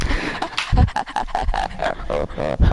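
A person breathes heavily and pants after running laps, with rapid, close, rhythmic breaths throughout.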